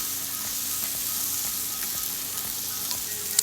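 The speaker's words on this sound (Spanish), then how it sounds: "Aquí agregamos nuestros maicitos tiernos" Tender sweet corn kernels sizzle steadily in a pan for a chicken and chorizo gratin, a close, even frying hiss with faint crackles throughout and no talking.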